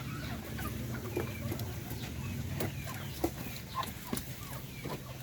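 Chickens in a coop clucking in short scattered calls over a steady low background hum, with brief sharper squawks breaking through, close and moderately loud.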